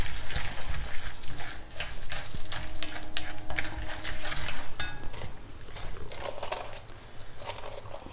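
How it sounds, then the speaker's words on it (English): Dals and peanuts (groundnuts) fry in a pan with green chilli for gongura pulihora, a steady loud sizzle with scraping stirs and occasional clinks of a spoon against the metal. "Fry the dals well. Finally add about 2 tablespoons of peanuts or groundnuts."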